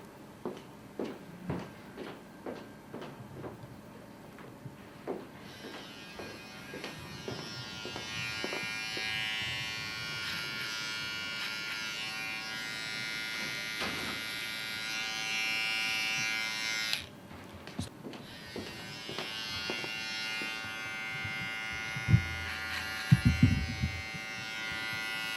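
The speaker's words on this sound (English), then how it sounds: "I'm going to now finish off with a small clipper." A small electric hair clipper buzzes steadily close by while it finishes a classic barbering haircut, a sustained drone lasting many seconds with a brief break, surrounded by light handling taps and clicks.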